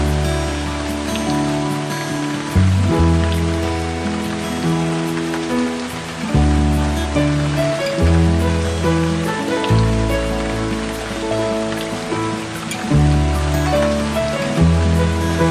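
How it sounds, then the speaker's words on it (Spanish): Heavy rain pouring steadily, a loud, dense hiss of water on surfaces with a constant texture, interrupted by a few low thumps. "la lluvia es cada vez más fuerte"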